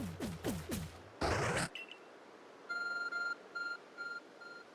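A phone device in the Pokémon anime gives a short run of repeated high electronic beeps in an even rhythm, following quacking-like calls and a burst of noise.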